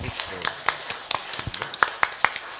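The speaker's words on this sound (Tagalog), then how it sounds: "purihin natin at palakpakan ang ating Yahweh El Shaddai" Scattered claps and taps ring out irregularly at a religious healing service, a few sharp and bright, while a voice talks over them.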